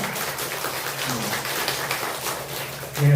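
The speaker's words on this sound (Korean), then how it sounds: "우리 박수로 환영하겠습니다." A church congregation claps in welcome during a Sunday morning service, a brief burst of dense clapping with a voice cutting in at the end.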